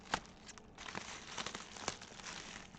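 Someone cuts into a package wrapped in bubble wrap, making close, crinkly crumpling and crackling with a few sharp snaps and tearing sounds throughout, fairly quiet.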